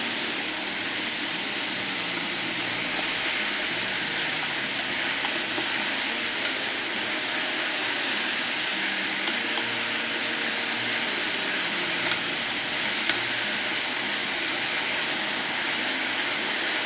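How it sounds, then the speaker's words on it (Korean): Mushrooms stir-frying in a frying pan on an induction cooktop over fairly high heat, a steady, close sizzle with faint scraping of chopsticks, continuous throughout with no talking. "버섯은 조금 강한 열에 볶아주세요."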